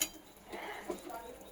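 Metal pot of cooked spinach lifted off a stove, giving a short clink and scrape of cookware, fairly close and brief.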